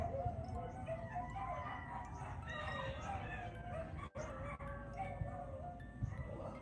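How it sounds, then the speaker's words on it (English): Many dogs bark outdoors on a noisy morning, a busy, overlapping chorus of yelps and howls at middle distance that runs steadily throughout, with a rooster-like call mixed in. "Dogs barking. Bunch of dogs."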